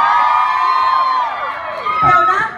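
A live audience at a mall stage show cheers and shouts, with loud whoops and children's voices rising and then dipping before a fresh burst near the end.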